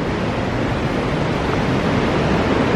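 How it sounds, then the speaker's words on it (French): Steady wind blows across an outdoor terrace, a continuous broad rushing roar buffeting the microphone with no pauses and no voices. "Et il y a du vent, hein. Je sais pas si vous l'entendez là, le vent."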